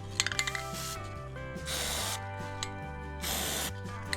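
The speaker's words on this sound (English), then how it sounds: "I'm just gonna spray some paint in here" A few clicks and rattles, then two long hissing bursts of spray paint from a can marking drill holes while fitting a Cat 3406A engine into a 1969 IH truck, close by over a low mechanical hum.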